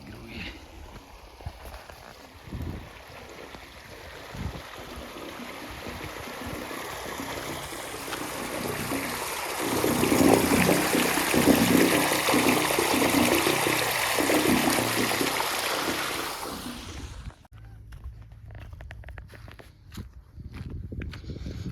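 Water gushes steadily from a newly laid six-inch irrigation pipeline on a farm, a broad, continuous rushing that swells in the middle and then cuts off abruptly, with footsteps and faint outdoor noise around it.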